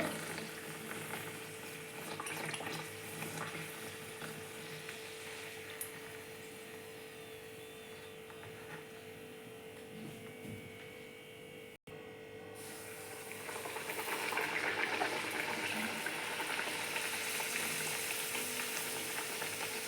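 Banana and wheat flour batter fries in oil over a low flame, giving a steady soft sizzle and bubbling that grows a little brighter and louder toward the end, with no talk.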